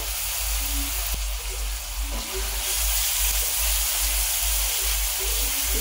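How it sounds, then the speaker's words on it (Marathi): Tomatoes and peas frying in a little oil, a loud, continuous close sizzle with a steady hissing crackle and a low background hum, with no talking. "हे थोडंसं तेलामध्ये फ्राय करून घ्यायचं"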